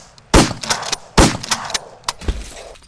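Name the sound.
gunshots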